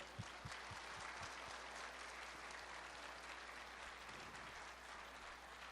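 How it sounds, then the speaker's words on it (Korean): Audience applause at a church festival, a few separate claps at the start building into a steady, even wash of clapping that stays low and distant, with no voices. "자, 박수"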